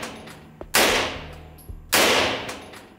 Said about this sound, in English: he has clothing for more powerful weapons like this MP5 submachine gun